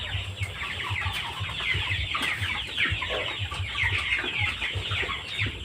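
Several chickens cluck and squawk continuously nearby, a busy flock chattering with low rustling and scratching underneath.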